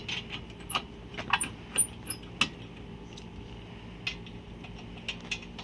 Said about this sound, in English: So I'm going to put the bolts back on.